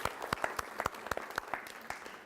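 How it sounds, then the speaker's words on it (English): Applause at a community health and lifestyle event, a smallish group clapping with distinct, separate claps in an uneven patter, fairly close. "how about a big round of applause for Dr. Jamie Lucia for putting this together for us"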